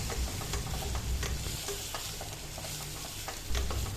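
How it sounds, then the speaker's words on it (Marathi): Turmeric powder and Khandeshi masala sauté in a hot pan for khichdi, a steady close sizzle broken by repeated scraping strokes of a spoon stirring the spices together, with no talking. "हळद पावडर, खानदेशी मसाला। सगळं परतवून घ्या"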